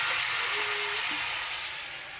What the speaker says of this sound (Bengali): এবারে একে একে আমি সমস্ত সবজি ভেজে নেব